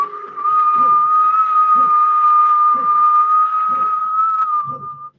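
A sustained, steady whistle on a forced exhale during a breathing exercise, holding a single clear pitch for several seconds. Soft, rhythmic low pulses run beneath it, and it ends with a brief drop in pitch.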